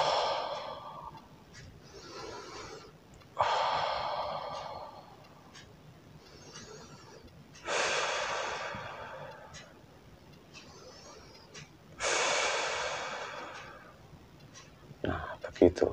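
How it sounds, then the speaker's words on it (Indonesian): Nasal in-breaths during belly breathing, a relaxation exercise for anxiety: four long, close airy inhalations, each swelling and then fading over a few seconds, separated by quiet pauses. "Kita hirup aja begini setelah napas gabungan tadi ya"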